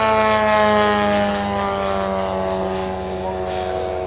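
A 1/3 scale model Spitfire with a detailed cockpit roars loudly overhead in flight, its steady propeller engine drone sliding slightly lower in pitch as it passes.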